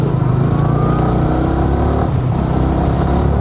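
A red Toyota Vigo driving along a road, a steady loud engine and tire drone that holds evenly throughout with no talking.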